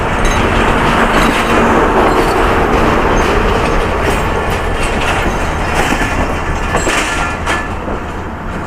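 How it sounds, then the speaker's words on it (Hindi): Hazara Express passenger train rolling past close by, with a loud continuous rumble and clickety-clack of wheels over the rails and faint squeals, steady throughout and slightly easing toward the end. "तो हज़ारा एक्सप्रेस अब जा चुकी है।"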